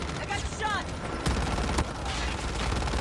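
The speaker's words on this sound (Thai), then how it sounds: "มีเสียงปืนมาจากไหน" Gunfire in Call of Duty: Mobile: a couple of sharp shots over constant dense game noise, with a voice speaking early on.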